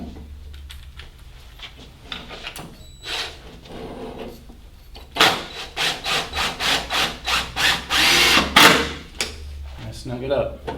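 Screws are driven in by hand to attach pipes to a sewing workstation, giving scraping, rubbing turns up close, sparse at first and then a quick run of rhythmic twisting strokes.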